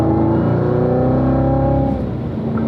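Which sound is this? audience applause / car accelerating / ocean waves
car accelerating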